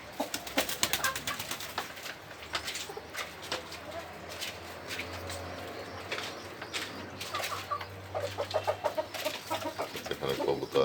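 Domestic chickens and pigeons kept indoors, with frequent clucks and bird calls over a low steady hum, plus occasional wing flaps, close and continuous.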